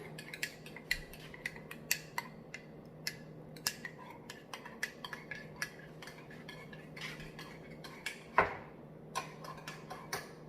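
Ketchup is stirred into ribs, heard as a series of light, irregular clicks and taps of a utensil against a dish over a quiet background, with one sharper knock near the end; no one speaks.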